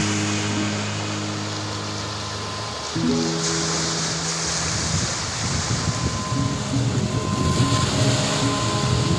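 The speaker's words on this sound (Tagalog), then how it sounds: "Grabe yung galaw ng tubig." Turbulent water churning where a river current collides with incoming waves, a steady rushing roar with a low engine drone at first that fades after a few seconds.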